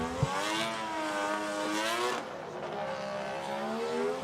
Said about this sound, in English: There is Mohan warming up his tires.